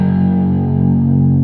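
Chapman ML-1 Pro modern baritone guitar with 28-inch scale, played on a clean tone: a loud, deep sustained chord ringing steadily with rich low end, heard alone.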